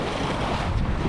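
Wind buffets a sailing dinghy during a race, with broad, steady rushing and water noise close by and no talking.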